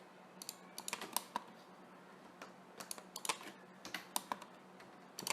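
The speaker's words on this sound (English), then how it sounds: "so Alt click, click, click" Rapid, irregular clicks from a mouse and keyboard while modeling in 3ds Max, close and crisp, coming in quick bursts with short pauses over a quiet background.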